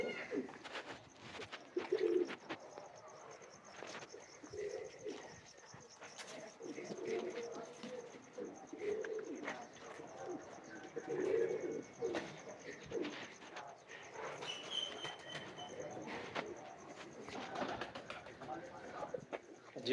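Teddy and Sebe-wale pigeons coo softly and repeatedly, low and somewhat distant, with faint bird chirps and murmured talk in the background.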